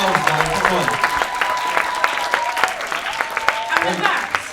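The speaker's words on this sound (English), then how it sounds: "Round of applause for yourselves, man." Festival crowd at Flux Fest 2022 clapping and cheering in a continuous burst of applause, with voices and a tonal hum running underneath the hands.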